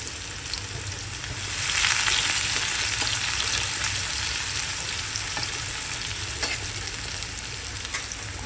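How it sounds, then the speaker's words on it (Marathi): Sliced onions sizzle steadily in a hot pan, a continuous close-up crackle that swells briefly early on and holds throughout with no voices. "आता आपण कांदा फ्राय करायला टाकूया."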